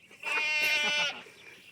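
A goat on a farm gives one clear, wavering bleat lasting about a second, close and moderately loud, set against quiet farmyard background.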